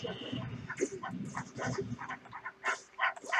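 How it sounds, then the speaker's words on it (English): Dogs yip, whimper and bark in quick bursts inside a Minecraft game, fairly quiet and continuous, layered over a busy mix of game sounds. "Oh no, you have an army of dogs!"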